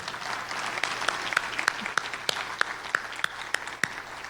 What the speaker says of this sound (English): Another round of applause for Lisa Woods.